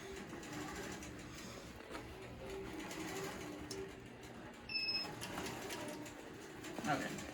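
A Nolting longarm quilting machine starts up and stitches, giving a steady mechanical hum with a faint rhythmic tapping beneath, fairly quiet and close, while a person talks over it.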